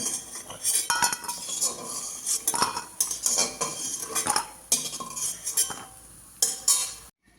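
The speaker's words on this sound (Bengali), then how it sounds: "এবার বড়িগুলো তুলে নেব।" A metal utensil scoops fried lentil badi out of a wok, giving close, sharp clinks and scrapes in uneven bursts over a faint sizzle.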